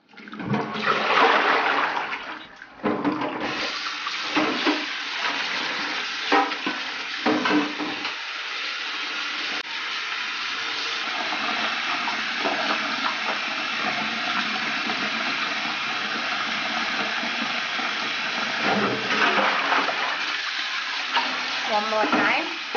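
Cooked spinach being rinsed under a running kitchen tap, a steady gushing water stream with clattering and sloshing from handling the greens, continuing for a long stretch.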